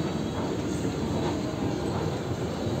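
A train running near a large mall, heard from inside a rising lift as a continuous dense rumble and rattle of rail cars at moderate loudness with no talking.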